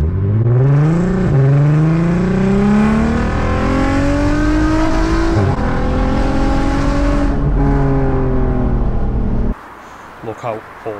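A VW R36 fitted with a straight-pipe exhaust pulls away hard, its loud engine note rising through the gears, with revs climbing, dropping at each shift and climbing again for about nine seconds before cutting off abruptly.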